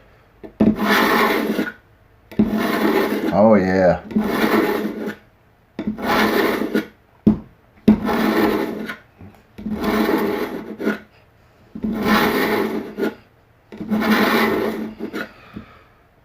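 Repeated rasping strokes of a knife drawn across the coarse side of a moistened whetstone, steady back-and-forth rhythm of about eight long pulls, close and fairly loud, with a brief spoken remark.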